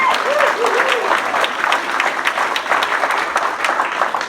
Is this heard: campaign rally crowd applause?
yes